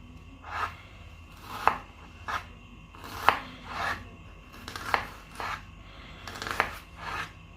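An onion is chopped finely with a knife for a quick breakfast dish. About eight crisp cutting strokes fall at a roughly steady pace of one per second, close and clear, with no talking.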